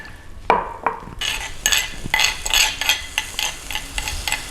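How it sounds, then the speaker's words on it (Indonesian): Stir-frying a Balinese dish with terasi shrimp paste in a pan: spatula scrapes and clinks with a soft sizzle, in an irregular rhythm of sharp strokes, close and fairly loud, with no talking. "Oke, ini ditumis, kemudian ditambahkan air supaya sedikit lebih cair ya"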